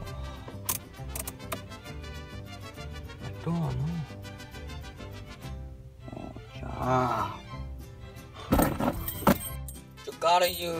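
Car keys jangle and clink in short, irregular bursts as someone tries to start the car, mixed with voices talking close by.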